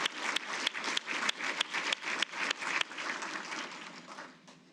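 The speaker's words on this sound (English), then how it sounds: "how about a round of applause for our former inductees?" Crowd applause at a Hall of Fame induction ceremony, with distinct sharp claps standing out over a steady wash of clapping that gradually fades toward the end.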